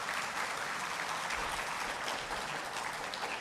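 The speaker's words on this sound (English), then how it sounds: "please give a big round of applause to Ibu Sri" Audience at an international tourism investment forum gives a steady, moderately loud round of applause throughout, dense clapping without speech.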